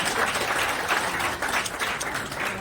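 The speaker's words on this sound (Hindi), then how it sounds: "दीप प्रज्वलित संपन्न हुआ, एक बार जोरदार ताली बजा के स्वागत करें।" Audience applause following a ceremonial lamp lighting at a political party meeting, dense steady clapping from a crowd throughout, fairly close and loud.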